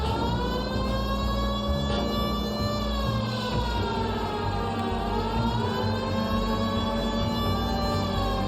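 Police siren from the LA Noire video game wailing steadily throughout, a loud continuous rising and falling tone over a low engine rumble, with no talking.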